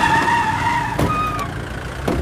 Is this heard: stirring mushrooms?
no